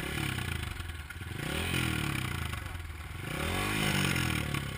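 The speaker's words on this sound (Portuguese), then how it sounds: "você vai estourar essa moto aí" Motorcycle engine revving hard outdoors, the note rising and falling in repeated surges over a steady mechanical clatter, loud and close.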